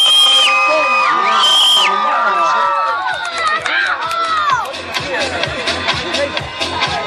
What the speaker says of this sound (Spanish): denme un aplauso.